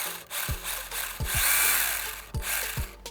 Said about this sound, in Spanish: parece que ya la motosierra ya está hidratada, ya está lista para trabajar